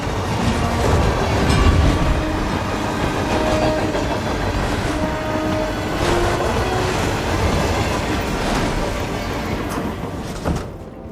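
A train rolls steadily through a level of the game Hitman: World of Assassination, with loud continuous rumble, rattling wagons and clickety-clack wheels, faint squealing tones drifting in and out, and no voices.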